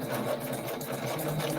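A sewing machine backstitches through a handmade junk journal, its steady, close mechanical whirr running continuously with no voices over it.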